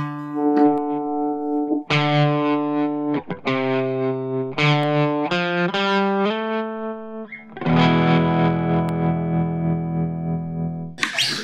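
An electric guitar plays chords and single notes through a Mooer Trelicopter tremolo pedal with a little delay added, the pulsing, slightly distorted tone sustaining and ringing out with no talking.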